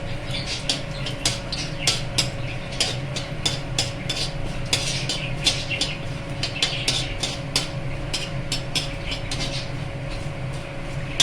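Whole garam masala and two bay leaves frying in a spoonful of ghee in a pan, giving a steady sizzle peppered with rapid crackles and pops, with a faint steady hum underneath and no voices.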